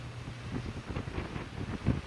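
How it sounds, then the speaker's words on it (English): Strong hurricane wind gusts buffet an outdoor microphone in St. Petersburg, a steady low roar with bursts of rumble, loud and continuous with no talking. "And yes, it is extremely windy this morning."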